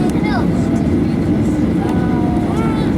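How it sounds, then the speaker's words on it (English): A passenger airplane turns onto the runway before takeoff in Spain, its engines a steady loud broadband roar with a low rumble throughout, high whining tones rising and falling over it, and faint speech mixed in. "Turning on to the runway."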